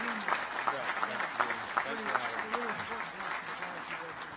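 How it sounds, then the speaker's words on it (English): An audience at a governors' opening session applauding Governor Bentley and Governor Inslee, moderate sustained clapping with voices rising over it, heard from a distance in a large hall. "Let's give Governor Bentley and Governor Inslee a great round of applause if we could."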